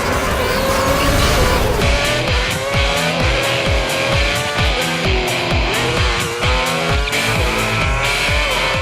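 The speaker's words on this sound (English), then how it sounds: "the roar of competing cars keeps you well aware of their positions on the track" Formula One car engines in the video game F1 2010 roar loudly and continuously, with repeated gear-shift pulses and rising whines as several cars compete close by.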